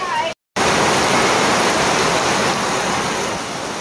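Heavy rain pours down in a steady, loud, broadband hiss that drops out briefly near the start and then continues unbroken, with a voice audible for a moment before the gap.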